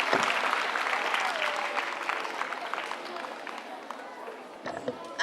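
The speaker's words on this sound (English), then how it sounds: "Let's give Mr. Mwangi a better clap because that speech was from the Principal Secretary." An audience at a 10th anniversary celebration claps after a speech, a loud burst of applause that gradually thins and fades, with some chatter mixed in.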